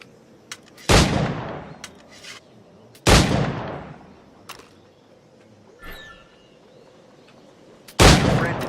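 Single firearm shots in Assassin's Creed IV Black Flag, four loud booming reports spaced seconds apart, each with a decaying echo tail, plus a fainter metallic click between them.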